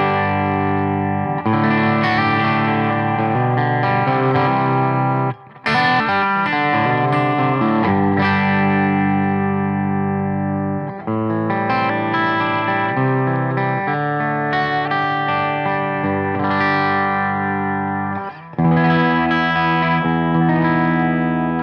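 Fender John 5 Ghost Telecaster electric guitar on its bridge pickup, played clean through an EVH 5150 amp: a sustained run of bright, ringing chords and notes with brief pauses, loud and steady with no talk.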